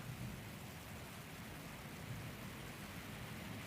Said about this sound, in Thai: นี่จ้าฝนก็เริ่มตกแล้ว